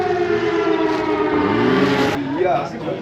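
A civil defense siren wails in the town of Cochem, loud and steady with a wavering pitch, then drops off sharply near the end.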